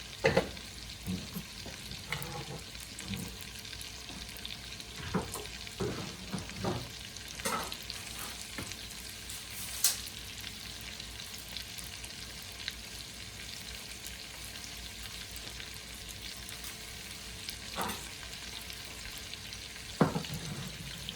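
Italian sausage sizzles steadily in a pan for Zuppa Toscana soup, a constant crackling hiss broken by sharp clacks and scrapes of a utensil stirring every few seconds.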